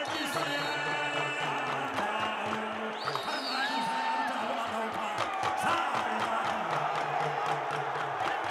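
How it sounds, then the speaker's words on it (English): Crowd cheering and roaring steadily throughout at a dambe boxing fight in Abuja as heavyweight fighter Garkuwa Yansanda hypes the spectators before stepping into the ring, with a whistling call rising above the dense, continuous crowd noise. "The crowd is loving what they're seeing. Yansanda revving up the crowd."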